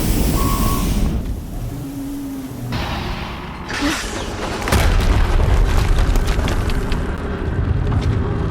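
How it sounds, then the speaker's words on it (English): An explosion in Horizon Zero Dawn, a loud, deep boom that swells and rumbles on, joined by a high electronic tone and layered game noise. "Another explosion."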